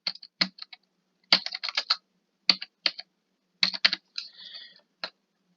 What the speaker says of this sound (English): you're going to type in your 8 number student ID.